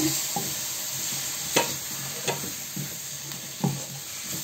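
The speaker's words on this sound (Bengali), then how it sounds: "একটু ভেজে নেব মশলার সাথে।" Shrimp fry with spice paste in a pan, giving a steady sizzle broken by a few scraping stirs of a spatula, close and moderately loud, with no voices.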